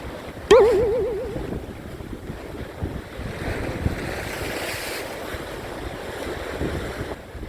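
Wind buffets a microphone by the sea during cold-weather fishing, a steady rough rush with waves beneath and a sharp knock at the start.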